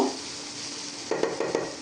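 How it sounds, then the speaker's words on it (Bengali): A khichuri mixture seasoned with cumin and coriander powder is lightly fried in a pot, with a soft sizzle under a few quick stirring scrapes near the end. "সবগুলো আবার আর একটু মিক্স করে নিয়ে জাল করে নিব হালকা একটু ভাজা ভাজা করে নিব"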